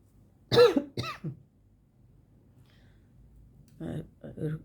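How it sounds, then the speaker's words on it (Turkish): A couple of sharp, close coughs or throat clears in quick succession, followed by a pause and then a voice speaking quietly. "öksürük geldi"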